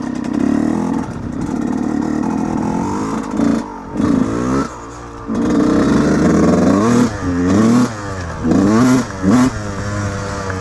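A Yamaha YZ125 two-stroke dirt bike revs hard on a slick wooded trail, its engine wailing up and down in repeated bursts with brief throttle-off dips, loud and close from the rider's headcam.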